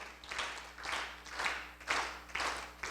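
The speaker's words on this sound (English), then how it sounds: "I would like you to clap in synchrony" A lecture audience claps together in rough unison, producing rhythmic bursts of applause about every half second that swell and tighten in time.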